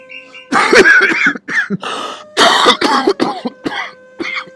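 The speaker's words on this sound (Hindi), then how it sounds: "मैंने आपकी खांसी की आवाज सुन गई" Several hoarse coughs and throat-clearing bursts in a row, loud and close, with short pauses between them.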